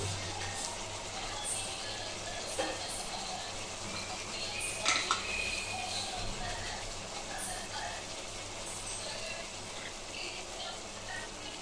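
Tomatoes tipped into a pan of soya chunk (meal maker) curry and stirred, with a soft continuous sizzle, light scraping and clinks of a spoon against the pan, steady and close throughout.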